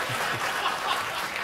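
Audience at a comedy show applauds in a steady, dense wash of clapping, a short burst with no clear voices over it.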